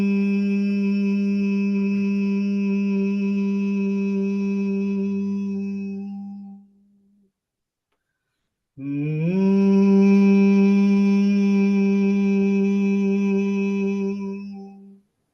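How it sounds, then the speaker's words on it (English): A deep, steady hum from one voice holds for several seconds, pauses briefly for a breath, then resumes just as strong and even. "hum deeply and intensely without stopping"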